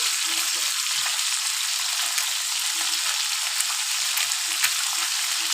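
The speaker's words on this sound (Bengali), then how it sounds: "সব ভেজে আমি মাছগুলো ভেজে রাখি" Parshe fish frying in a pan, a steady, dense sizzle of hot oil running throughout with faint crackles and small pops, no voices.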